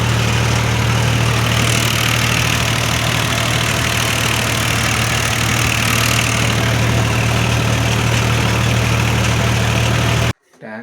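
A tanker vehicle's engine runs at a steady idle, a loud, close, continuous low rumble with constant vibration that cuts off abruptly near the end.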